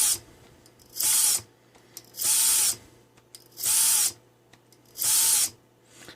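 A drone motor spins up to max throttle and drops back to minimum, giving four short, loud, high-pitched whirring bursts in an even rhythm, separated by quiet gaps.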